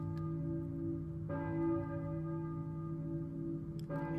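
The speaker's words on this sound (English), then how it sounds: "church bell, maybe. Who's ringing the bell?" A church bell tolls in the video game Silent Hill, two resonant strikes a few seconds apart, each one ringing out and sustaining under a low ambient hum.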